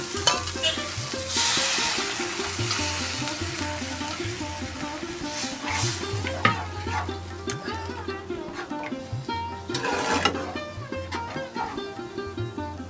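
Pea dal poured into jute greens and spices frying in a pan: a steady oily sizzle with repeated spoon scrapes and stirring clatter, close and continuous, no talking.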